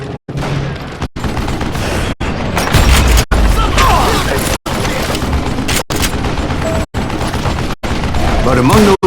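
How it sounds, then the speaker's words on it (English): A heavy volley of gunfire pours down in a video game, loud and dense, with booming blasts and rattling shots. The barrage cuts off abruptly several times, and voices may sit faintly under the din. "a fusillade of bullets come raining down from on high"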